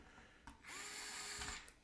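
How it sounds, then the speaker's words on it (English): A DeWalt cordless drill drives brass-block guitar bridge screws, a short whirring burst of about one second that starts, holds steady and stops, close up and clear against a quiet room. "Use your NASCAR tire changing DeWalt"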